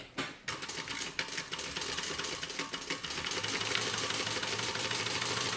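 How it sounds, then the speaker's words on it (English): Sewing machine top stitching a vinyl tote bag side piece, a steady close mechanical whir that runs continuously after a few brief stops and starts at the beginning. "We're top stitching on the actual side piece itself."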